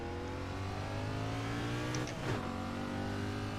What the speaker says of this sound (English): I'm going to have to turn up that engine sound a little bit on this Cup car.